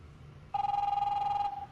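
A 1980s cell phone used as a home phone rings in The Wolf Among Us, a single loud electronic trill lasting about a second, warbling steadily and then cutting off, with no talk over it.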